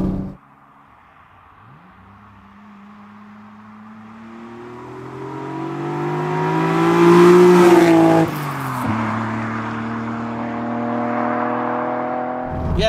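Toyota Supra engine revving up alone, its note climbing steadily from a low idle to a loud, strained peak, dropping briefly, then holding a steady higher drone as it keeps pulling.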